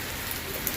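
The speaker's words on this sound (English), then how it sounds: "Listen to this rain. It's fucking strong." Heavy rain pours down in a dense, steady hiss, close and unbroken over a brief moment.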